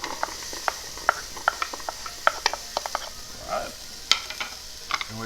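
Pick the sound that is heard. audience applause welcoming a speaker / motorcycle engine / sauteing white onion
sauteing white onion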